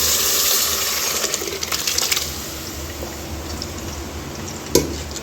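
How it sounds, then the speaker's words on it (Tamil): Gravy poured into a pan for mutton kola urundai kuzhambu, a steady liquid splash and gush with faint stirring scrapes, ending in a single sharp clink against the pan. "இப்போ இதில் குழம்பு ஊற்றிடுவோம்"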